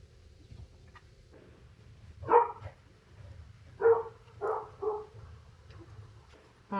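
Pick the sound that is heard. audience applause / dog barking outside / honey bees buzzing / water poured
dog barking outside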